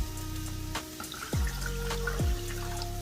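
Tap water pours steadily into a pot for cooking grits, with a rising tone as the vessel fills, briefly interrupted and then resumed, close and fairly loud with no talking.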